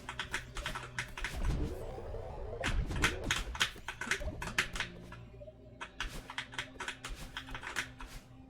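Rapid computer keyboard keys clatter in quick bursts and irregular runs while Celeste is played, close and crisp, with a faint game sound underneath and no speech.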